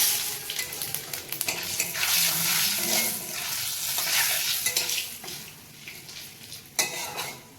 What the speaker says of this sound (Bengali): মা এবার তেল দিয়ে দিল মা, তেজপাতা দিচ্ছে, রাঁধুনি দিচ্ছি, রাঁধুনি ফোড়ন দিলাম